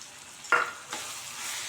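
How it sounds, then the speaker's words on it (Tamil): Asafoetida and chili powder sautéing in hot oil for a Tamil paruppu urundai kuzhambu, a brief burst of sizzle as they hit the pan, then a softer stirring hiss that lingers close by. "இதெல்லாம் நல்லா ஒன்று சேர அந்த எண்ணெயிலே நல்லா வதக்கிக்கலாம்."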